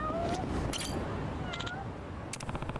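In the video game Yakuza: Like a Dragon, a cat meows several short times close by, set against a soft background hum with faint game sounds.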